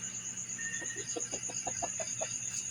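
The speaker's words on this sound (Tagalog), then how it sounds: "binisita ko lang yung mga manok, baka kulang" Chickens cluck in a short series of soft, repeated calls over a steady background hum, moderately distant and fairly quiet.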